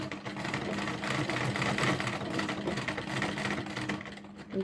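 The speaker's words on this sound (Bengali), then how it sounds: "ফিতাটা দিয়ে সেলাই করে নিব ফিতাটা ঢুকিয়ে এখান থেকে এসে" A sewing machine runs in a steady, close, continuous whir, with a rapid needle rhythm, as tape is stitched onto a homemade cloth baby nappy, and no one speaks.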